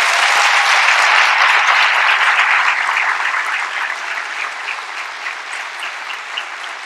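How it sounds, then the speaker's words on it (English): A large audience at a university presidential inauguration ceremony breaks into sustained loud applause, a dense wash of clapping that holds steady and then gradually thins and softens toward the end. "Would you give them a rousing round of applause?"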